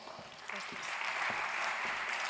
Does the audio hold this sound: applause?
yes